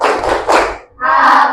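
Schoolchildren in a classroom perform a patterned concentration clap, two short bursts of clapping and hand sounds, a brief gap, then a final burst, close and fairly loud.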